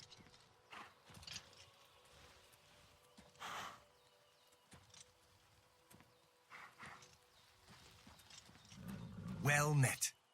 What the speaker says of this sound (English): Oh, there's horses.